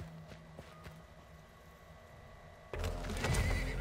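A horse neighs in the video game Weird West, first faint under light hoofbeat ticks, then a louder whinny bursts out near the end over a rising background.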